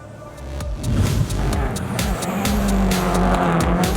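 A rallycross car races through qualifying at the 2019 World Rallycross of Latvia, its engine roaring loudly with rapid gear changes and pops, and tires squealing as it passes close by.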